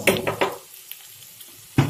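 Fish intestine and brinjal stirred in a frying pan, with a few quick scraping, sizzling bursts at the start, a near-silent pause, then another short scrape at the end.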